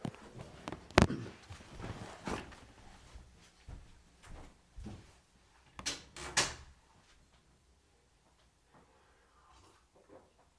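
A house door is opened and closed, giving wooden knocks, a sharp latch clack and shuffling movement close by in an uneven run of thuds before the sounds settle into quiet.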